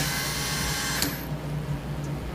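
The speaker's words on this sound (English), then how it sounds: "Alright, so I'm going to use my drill." A power drill loosens a lock nut on an Anycubic Kobra Max 3D printer during a linear rail upgrade. It gives a steady, close whirring burst for about a second, then cuts off, leaving a low background hum.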